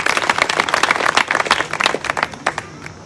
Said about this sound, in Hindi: आप अपने लिए तालियां बजाइए एक बार आपकी मौजूदगी के लिए